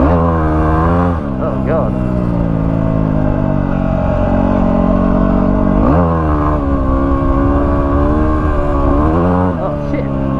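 A Yamaha WR250R motorcycle engine revs hard and steadily up close for a wheelie, its harmonic drone rising and falling with throttle changes, while a person briefly talks over it.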